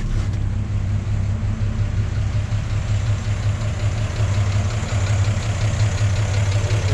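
A 1951 GMC Series 100 pickup with an inline six-cylinder engine idles smoothly and steadily, a close, even low rumble with a quiet, regular pulse and no voices.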